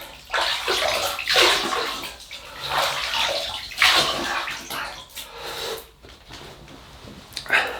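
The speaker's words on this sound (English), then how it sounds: "So we'll wet this ugly face and we'll get going." Tap water runs steadily and splashes as a face is wetted before a shave, loud and close, its flow rising and falling in uneven surges with hands scooping through the stream.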